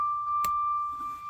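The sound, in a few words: motorhome warning beep, key on with leveling jacks up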